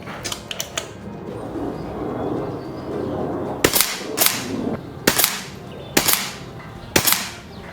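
Five sharp, evenly spaced shots from a JTS Behemoth air rifle firing .22 pellets, each a crisp snapping crack with a short tail, preceded by a few faint clicks and low handling noise.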